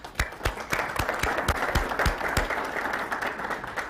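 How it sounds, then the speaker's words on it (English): Scattered audience applause for staff at a housing forecast event, a modest room of people clapping with distinct, fairly sparse claps that stay steady before thinning slightly toward the end. "So I'd like to give our staff a round of applause"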